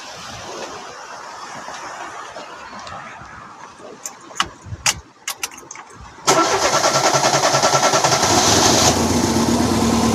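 An Opel Corsa Utility 1.4i engine turns over with a few cranking spins, then catches and settles into a steady, loud idle.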